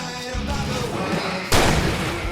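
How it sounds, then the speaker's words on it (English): Fireworks go off in the Alan Wake Remastered video game, a dense, loud run of booming bursts with a sharper blast partway through, continuing without pause. "I can set off more of the fireworks from here and help you out!"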